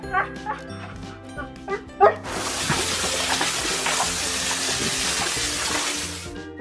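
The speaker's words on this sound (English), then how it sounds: "I'm trying to fill up fresh drinking water and you're in there!" A steady rush of water filling a container starts abruptly and continues, after a few yelping husky barks heard at the start.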